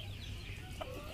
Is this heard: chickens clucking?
yes